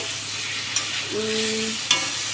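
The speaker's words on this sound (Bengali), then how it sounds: "মাছগুলোকে একটু কষিয়ে যাতে মশলাটা ভালো করে ঢোকে, তো মাছগুলোকে ভালো করে কষাচ্ছি।" Pangas fish pieces sautéed in spice masala in a pan give a steady close sizzle with stirring scrapes, two sharp clicks and a brief tone partway through.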